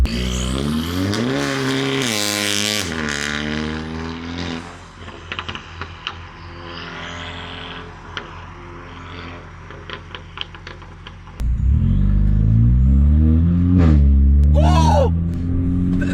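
A VW Scirocco with a DSG gearbox and a pop-and-bang map revs hard, the engine note rising in sweeps before a loud, close burst of rumbling; an excited voice cheers briefly.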